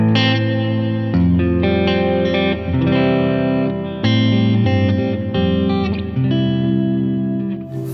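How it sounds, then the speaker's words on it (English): Electric guitar played through a Boss RV5 into a TC Electronic Hall of Fame pedal on its church reverb setting, loud sustained chords in a steady rhythm, each ringing into a long, spacious reverb tail with no talking. "I'm using the church reverb setting"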